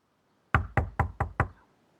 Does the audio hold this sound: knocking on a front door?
yes